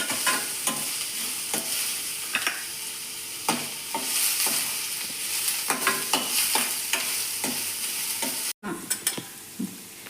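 Chopped onions frying in hot oil while a spoon stirs them, a steady close sizzle broken by regular scraping strokes against the pan, with no one talking.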